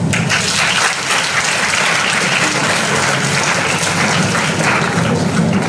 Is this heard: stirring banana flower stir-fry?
no